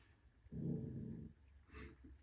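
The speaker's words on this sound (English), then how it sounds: "She's hearing people outside and she's barking like they could hear her" A single low, muffled bark-like burst from a dog, followed by a softer second yelp, fairly close in a quiet room.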